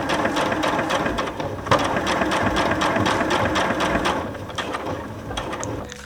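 A sewing machine stitches fabric slowly around a curve on a reverse appliqué heart cushion cover, giving a steady mechanical whir with rapid needle ticks that eases slightly toward the end, close and without talk.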